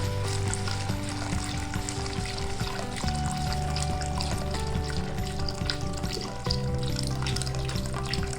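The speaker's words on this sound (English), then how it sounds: "Then you take the broth and go halfway up the chuck roast." Broth is poured into a hot pan around a chuck roast, giving a steady sizzle and bubbling with a running liquid stream close by.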